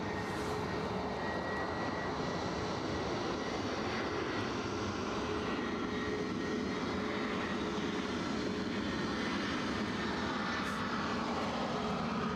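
An airliner approaches to land at Edinburgh Airport, a distant, steady, faint engine roar with a broad rushing hum that persists throughout.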